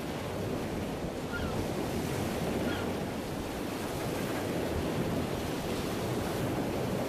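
Sea waves on the shore, a continuous loud wash of surf and wind noise with no breaks, steady throughout.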